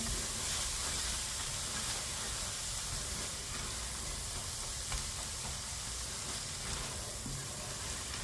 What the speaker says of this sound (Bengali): সব মশলা আমার শেষ দেওয়া। এখন একটু ভেজে নিচ্ছি।